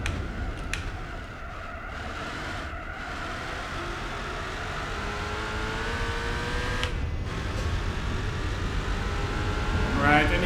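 A race car's engine drones steadily through corners in the racing game Gran Turismo 4, with rising and falling gear tones and occasional tyre noise, loud and continuous throughout.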